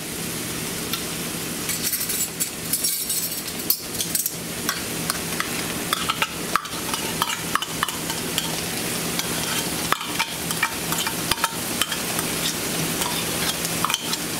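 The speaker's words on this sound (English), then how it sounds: "we're going to add our green chilies next" Green chilies stirred in a frying pan: a steady sizzle of frying under scraping stirring strokes and occasional light clinks of utensil on pan, continuous throughout.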